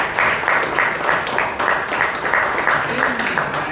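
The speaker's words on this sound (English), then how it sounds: "Please give Bhavana a big round of applause." Members at a Toastmasters meeting in Bangalore applaud a speaker, a short burst of rhythmic clapping from a modest group, moderately loud and fairly close.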